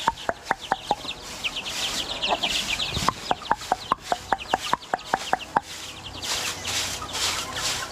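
Hen clucking with her chicks in a coop in the Philippines, a steady run of sharp, evenly spaced clucks, near and fairly loud over soft chick peeps and background chatter.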